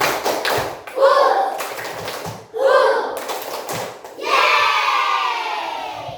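A classroom group of children performs a rhythmic clap-and-chant spirit routine: bursts of patterned clapping alternate with shouted group voices in three short rounds, ending in a sustained collective cheer.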